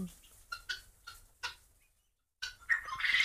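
Tithi chickens on a chicken farm give a few short clucks and calls spaced through the moment, fairly close, with a brief silence before more activity and a rising noise at the end.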